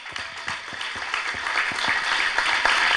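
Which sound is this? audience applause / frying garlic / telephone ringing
audience applause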